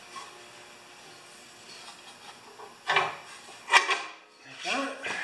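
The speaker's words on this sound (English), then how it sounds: "Now I'm sticking the muffler on." Metal muffler parts clank and scrape while being fitted onto a Honda GX390 engine. Several sharp knocks and rubbing sounds come close together in the second half, over a quiet background.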